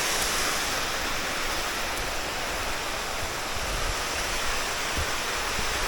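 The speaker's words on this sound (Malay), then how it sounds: "Ni air terjun dia." Buntong waterfall on a Malaysian hiking trail roars in a constant, dense rush of falling water, loud and steady throughout, with no voices.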